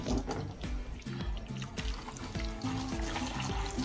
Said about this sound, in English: once you are done with applying water into the entire car